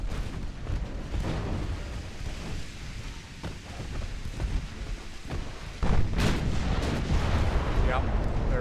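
Battleship main guns firing and shells striking in Ultimate Admiral Dreadnoughts, a continuous rumbling barrage of deep booms with a heavier impact surge late on, loud and close.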